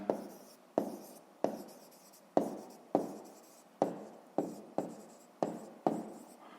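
Someone is handwriting a math answer for a fifth-grade exercise: about eleven evenly spaced scratchy pen strokes on paper, close and soft, with no talking.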